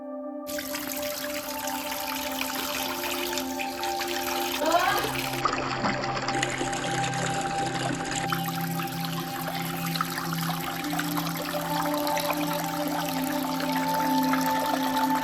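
Tap water runs steadily while a face is washed with Nivea face wash during an at-home bleach facial routine, a continuous close splashing and trickling that holds throughout, with brief shifts in flow.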